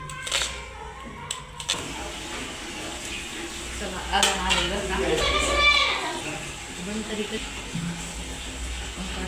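Soft sizzling of food frying crisp in a pan for chicken dum biryani, with stirring and utensils scraping and clinking, as a voice talks over it.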